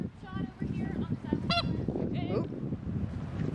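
Goose-like bird honking twice, loud and close, over steady outdoor noise and faint background voices.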